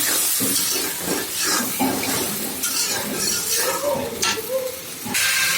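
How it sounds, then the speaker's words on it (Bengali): Shrimp sautéing in spice paste in a pan, a steady loud sizzle and hiss with stirring and utensil scrapes throughout, close up. "চিংড়ি মাছগুলো দিয়ে দিচ্ছি। এর মধ্যে কষানো হোক মাছগুলো।"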